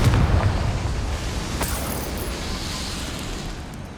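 A Confringo fire-blast spell explodes in Hogwarts Legacy: a deep, loud boom at the start that rolls off into a long rumbling decay, with a sharp crackle partway through.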